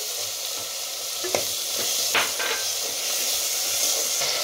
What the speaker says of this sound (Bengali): এই টমেটো পিউরিটা দিয়ে দিচ্ছি।